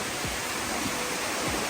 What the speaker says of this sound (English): I love this waterfall, man.